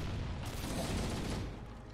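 Grenade explosions going off in Halo: Combat Evolved, a dense, loud burst of overlapping blasts and gunfire that sustains for about a second and a half before easing slightly, with no talking.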